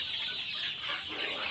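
Broiler chickens in a poultry shed cluck and chirp in a continuous, busy chorus, moderately near and without talk.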